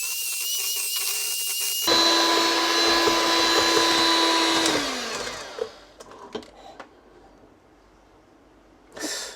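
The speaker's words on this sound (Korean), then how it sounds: "이제 설탕을 넣고 노른자랑 설탕이랑 휘핑을 쳐주도록 할게요." Electric hand mixer whipping egg yolks and sugar for coffee gelato, a loud steady high whine that rises in pitch, then cuts off, followed by scattered clinks of the bowl and a brief final burst.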